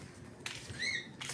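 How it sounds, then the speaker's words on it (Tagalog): A pet bird whistles briefly indoors, a couple of short clear rising whistle notes near the middle of a quiet moment with soft background noise. "Nagsisipol-sipol na."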